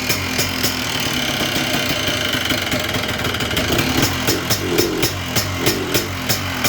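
A Yamaha Blaster ATV engine runs at a rough, uneven idle after being choked on a cold start, close and fairly loud, with sputtering pulses and a faltering bog toward the end.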